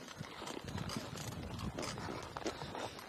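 A bay mare being ridden Western steps sideways, her hooves giving soft, irregular clip-clop thuds close by over steady outdoor background noise.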